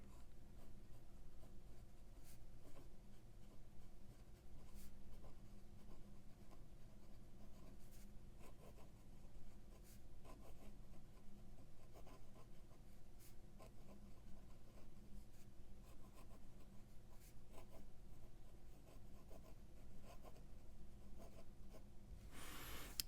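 A Visconti Homo Sapiens Arizona Sunset fountain pen writes on paper, a faint, close, continuous scratching of nib strokes with small rhythmic pauses, alone and quiet throughout.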